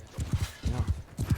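Horse hooves clop in the medieval battle game Bannerlord, with quick uneven footfalls in a short run and a faint whinny mixed in, moderately close.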